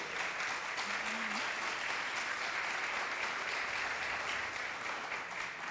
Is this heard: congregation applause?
yes